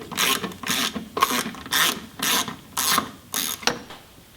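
A hand ratchet works loose the 8mm bolts holding a car's gas tank filler neck, clicking in about seven quick, close bursts of rhythmic pawl ratcheting, separated by short pauses as the handle swings back.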